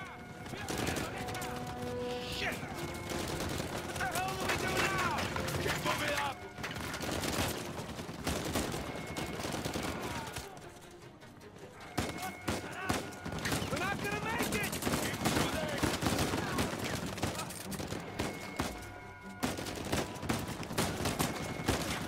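Gunfire in the game Uncharted 4, with repeated loud shots and bursts scattered over a busy mix of game music and effects, a brief lull midway, and someone talking at times.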